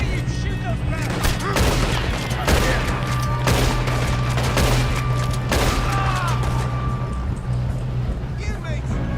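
Rapid gunfire rattles in a train shootout with guards in the video game Red Dead Redemption 2, repeated bursts and single shots over a constant low rumble of the moving train, loud and close, with voices and shouted talk underneath.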